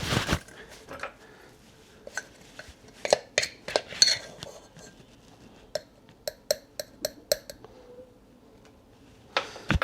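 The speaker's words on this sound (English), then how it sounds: "And then just mix that around until you got a bit of a slurry." A spoon clinks and scrapes against a bowl while cornstarch is mixed with beef stock into a slurry for a hearty beef stew, a quick irregular run of light taps and rattles, close by and fairly quiet.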